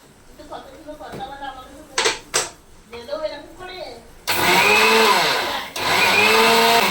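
Electric blender grinding coffee and sugar into powder, a loud steady whir that starts abruptly after a few seconds, briefly drops out, then resumes, following a stretch of speech.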